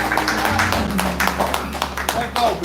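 An audience claps in a steady broadband patter as a performer named Blue walks to the stage at a live show, the applause close and continuous with a voice talking over it.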